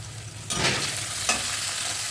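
Soya chunks fry in a pan with a steady close sizzle, and after a short quiet start a few scraping stirs join the hiss, with no talk.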